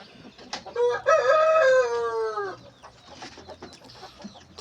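A rooster crows once nearby, a loud drawn-out call rising then falling over about a second and a half, with softer clucking and background noise before and after.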